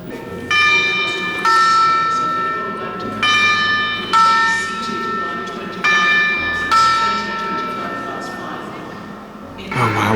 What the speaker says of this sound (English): Those soldiers' knights, whatever they are, they're going to hit the chimes.